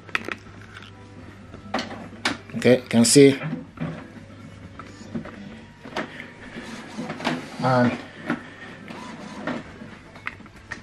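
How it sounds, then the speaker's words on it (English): An Epson printer powers up, its gears and carriage whirring and clicking in short mechanical bursts while a person talks over them. "you need to switch this printer on first"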